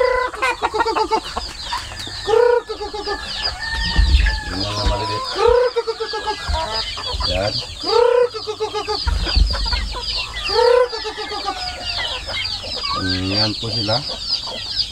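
Native chickens cluck and crow repeatedly at close range on a backyard farm, with loud overlapping calls while a person speaks briefly.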